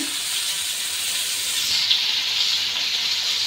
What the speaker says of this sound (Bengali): হলুদ লবণ রসুন বাটা দিয়ে ধনিয়া গুঁড়া দিয়ে ভেজে নিচ্ছে।